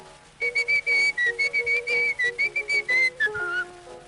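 A bright, melodic whistled tune from a Lambert Indestructible Record, with a lilting, phrase-by-phrase rhythm over faint instrumental backing, carrying the thin, slightly hissy tone of an old recording.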